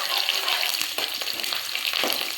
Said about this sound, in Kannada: 1 ಬೈ 1 ಹಾಕೊಂಡು ಚೆನ್ನಾಗಿ ಫ್ರೈ ಮಾಡ್ತೀವಿ